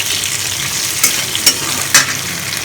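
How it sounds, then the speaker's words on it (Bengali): Sliced vegetables such as potato and ridge gourd fry in a pan, with a loud, close, steady sizzle and a few brief crackling bursts as they are stirred. "এখন সবজিগুলোকে একে একে একটু হালকা করে ভেজে নেব"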